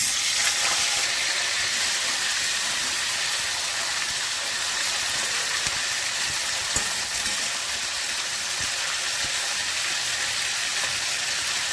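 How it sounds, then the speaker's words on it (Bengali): Cauliflower florets fry in hot mustard oil in a home kitchen, a loud, steady sizzle and hiss that runs unbroken throughout, close up, with no voices. "ফুলকপিগুলো একটু ভেজে নিচ্ছি।"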